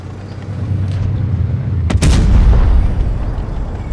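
A tank cannon fires in World of Tanks Blitz from an AMX AC mle. 48 tank destroyer, one sharp booming shot that cuts through a low engine rumble, followed by a rolling echo.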